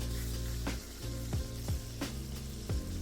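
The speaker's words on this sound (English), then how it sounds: "help us to get a really nice crispy sear on the outside before we put these in the oven" Salted turkey skin sears in a hot pan, browning toward a crisp finish before going into the oven, with a steady close sizzle and a few brief louder spits over about three seconds.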